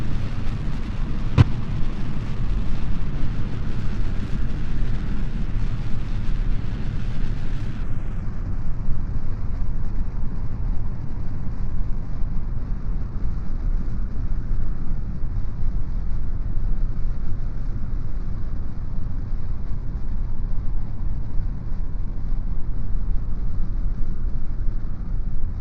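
Thyone X3 rocket engine roaring steadily after liftoff, a continuous loud broadband rumble heavy in the low end that holds for the full stretch, with a brief sharp crackle early on and the upper hiss thinning after a few seconds.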